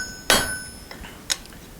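A hammer strikes hot folded rasp steel being forged into an axe, giving one loud ringing blow followed by a faint tap and a second sharp metallic hit, each with a brief ring.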